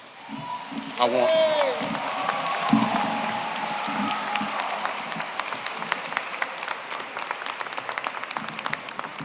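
Commencement audience applauds and cheers for the speaker, sustained clapping with scattered sharp claps, a whistle-like tone and whoops early on, and a voice speaking over the crowd.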